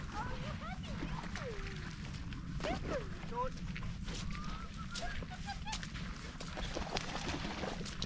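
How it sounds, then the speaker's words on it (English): Distant ducks and geese on a lake in Wales honk and call in scattered bursts over a steady low rumble of wind or water. "A couple of ducks out there on the lake."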